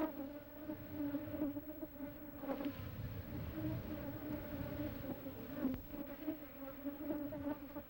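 A soft, continuous hum of many honeybees droning together, with slight swells in intensity and no voices.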